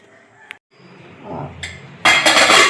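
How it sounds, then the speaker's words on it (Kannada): A pressure cooker lid is opened with metallic clinks and clatter, a sharp tap early on, then louder rattling of the metal lid near the end, close and fairly loud. "ಕುಕ್ಕರ್ ಕ್ಯಾಪ್ನ ತೆಗಿತೀನಿ."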